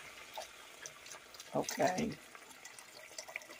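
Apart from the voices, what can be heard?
liquid being poured into soup pot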